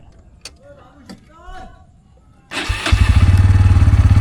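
A second-hand Bajaj Pulsar N160 motorcycle with dual-channel ABS cranks and catches, then settles into a close, loud, steady idle with an even rapid exhaust pulse, after a few faint clicks and electronic chimes.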